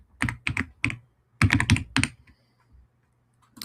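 Fingers type on a computer keyboard in quick bursts of crisp clicks, near and distinct, with short pauses between runs and no talk.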